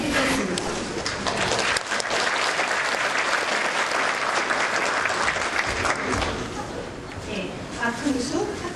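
Sustained applause from a large audience fills a university graduation ceremony, a dense, even clapping that continues for several seconds and thins slightly near the end.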